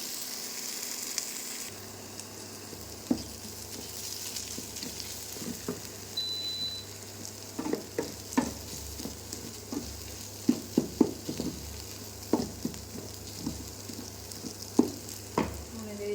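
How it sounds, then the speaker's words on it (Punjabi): Sarson saag hits a hot pan and sizzles steadily while a utensil scrapes and stirs it, giving a continuous frying hiss broken by sharp clicks and knocks close up, with no talking. "ਹੁਣ ਇਹਦੇ ਵਿੱਚ ਆਪਾਂ ਸਾਗ ਪਾਵਾਂਗੇ"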